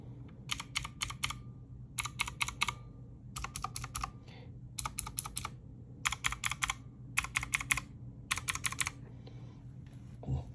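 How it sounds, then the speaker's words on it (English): Keys on a Redragon K580 VAT mechanical keyboard are typed in quick clattering bursts separated by short pauses, close and crisp over a low background hum. "I might just disconnect it right now that we can just hear the keys itself"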